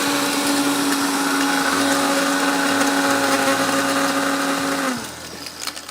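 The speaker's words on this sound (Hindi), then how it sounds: "ये हमने इसको ब्लेंड करना है, बारीक पीसना है।" Blender grinding spices with red chilli, a loud steady high-pitched motor whir with churning texture that winds down near the end, no talking.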